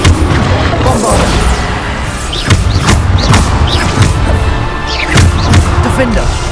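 Spell blasts and booming impacts burst repeatedly through a loud Hogwarts Legacy battle, with several sharp thuds standing out over continuous game sound and a voice shouting spell names.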